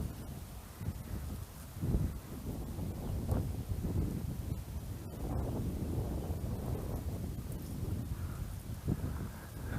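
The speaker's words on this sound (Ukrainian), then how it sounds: "стає вітер, стає хвилею." Gusty outdoor wind rumbling against the microphone while fishing on choppy water, low and continuous for several seconds with faint irregular surges and no speech.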